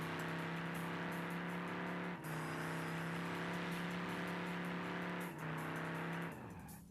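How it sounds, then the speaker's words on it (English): A car doing burnouts: a loud, sustained engine roar with a steady droning pitch, dipping briefly twice as if shifting or easing off, then fading at the end, with no voices. "Gotta get a few burnouts, for goodness sake."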